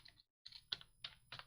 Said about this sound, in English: Epic typing again, Rake.